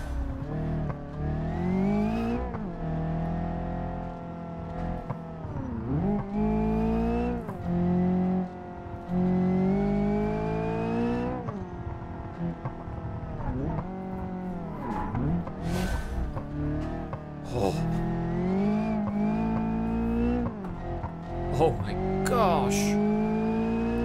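Car engine droning and shifting pitch while driving in BeamNG Drive, revving up and down continuously with occasional tire noise and brief squeals, loud and close.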